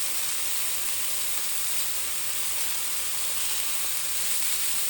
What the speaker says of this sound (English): All right, there's a hot pan. We are pan frying our venison.